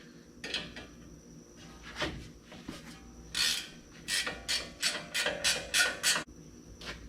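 A wrench works loose an 18 mm lower ball joint nut on a 2019 Chevy Silverado Trail Boss during a 6-inch lift install, giving a run of close, rhythmic ratcheting rasps and metallic clicks with no talking.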